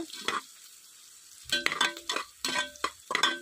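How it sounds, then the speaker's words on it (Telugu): Chopped onions fry in a pan for a chana curry, with quiet sizzling at first, then a series of louder stirring and scraping bursts close by, each with a bright clatter against the pan. "మనం కట్ చేసి పెట్టుకున్న ఆనియన్స్ వేసి కొంచెం బ్రౌనిష్ వచ్చే వరకు వేయించుకోవాలి"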